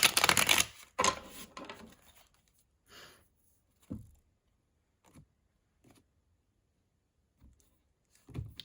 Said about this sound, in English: Then I will just do one last shuffle.